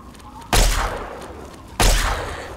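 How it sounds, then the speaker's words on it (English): Two heavy gunshot blasts in the video game Fallout 3, each a loud sharp crack with a long rumbling tail, spaced about a second apart. "Oh, nice shooting there, Buck Rogers."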